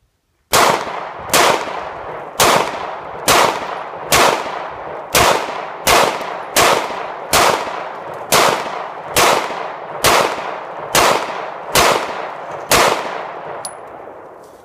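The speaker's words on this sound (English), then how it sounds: "I actually speeded up my rate of fire this time" Glock 19 pistol firing a steady string of about fourteen shots at roughly one per second, each a loud sharp crack with a ringing tail, outdoors and close.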